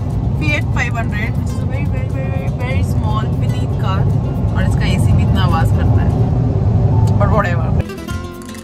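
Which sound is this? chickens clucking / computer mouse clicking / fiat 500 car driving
fiat 500 car driving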